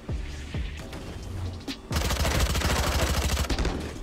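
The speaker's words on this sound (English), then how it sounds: "I'm just gonna use a shotgun this time" A shotgun fires in the Valorant video game: a couple of sharp separate blasts, then a dense, loud run of rapid gunfire that rattles on for about two seconds before trailing off.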